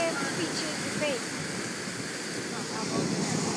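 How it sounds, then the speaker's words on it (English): Gusty wind buffets and roars across the microphone in a continuous broadband rush, with faint voice fragments briefly showing through. "It is windy out here."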